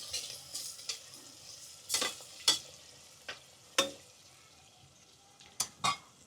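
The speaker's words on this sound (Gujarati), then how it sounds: "થોડી વાર આ તેલમાં બધું નાખતું જવાનું ને હલાવતું જવાનું" Carrots and peas are stirred in hot oil in a pan for pasta, with a soft sizzle underneath and several sharp utensil scrapes and clacks against the pan at irregular intervals, close up with no talking.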